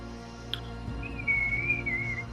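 A person whistles a single sustained, wavering birdlike note in imitation of a bird call during a tabletop role-playing session, clear and close in a quiet room.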